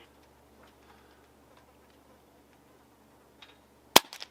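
A single sharp crack from a JTS Airacuda Max .177 air rifle fired at an airgun expo lands near the end after near silence, loud and abrupt with a short tail.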